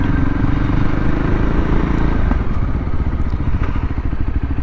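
A Voge 300 Rally motorcycle engine pulls steadily while riding in third and fourth gear, a loud close continuous throb with rapid firing pulses and rough clattering texture, no talk.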